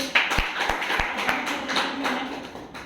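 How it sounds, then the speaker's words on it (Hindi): An audience at a business team event in Kanpur gives a burst of applause, a dense wash of many hands clapping fairly close, with a few sharper individual taps standing out. "तो यहाँ पे जबरदस्त ताली सर के लिए।"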